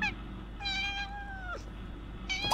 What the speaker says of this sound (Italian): Gioca col gatto, lancia in aria!